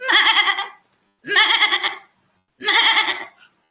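A human voice imitates a goat's bleat three times during a live poetry performance, each call loud, nasal and wavering, about half a second to a second long, separated by short silences.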